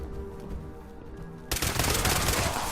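A video game anti-armor explosive pipe rifle fires: a quiet stretch with faint tones, then a sudden loud, dense burst of shots that carries through to the end.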